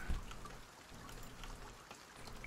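Light rain falling outdoors near a garage, a steady patter of drops with scattered sharper ticks on surfaces, quiet and continuous without speech.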